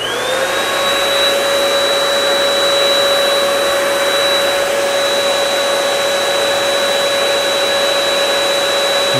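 An Earlex or Fuji paint sprayer cranked up and running, a loud, steady, high-pitched turbine whine with a constant rushing hiss that holds unchanged for about nine seconds, close up with no voices.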